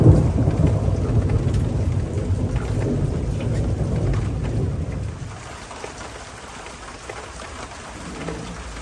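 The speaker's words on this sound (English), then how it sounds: "it is thundering out here." Thunder rumbles loud and close over steady heavy rain in a garden, the deep roll fading after about five seconds to softer rain with a faint later rumble.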